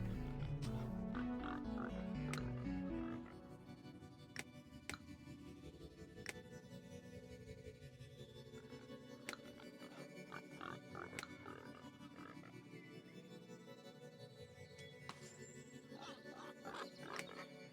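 A breeding pair of pigs in a video game grunts and oinks, loud and close at first, then softer over steady game background sounds.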